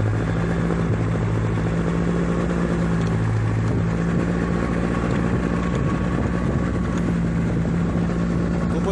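Motorcycles pull away and ride on together, a loud continuous engine drone with a steady low hum that stays close and unbroken throughout, no talking.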